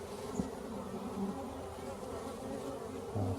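Honeybees in a nucleus hive buzz in a continuous, close, low drone that swells gently at times, with no voices over it.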